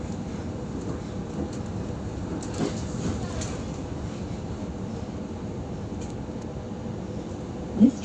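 A loud, steady rumble of a passenger train rolling along the tracks as it approaches Bulli station, with faint knocks and a brief squeal near the end.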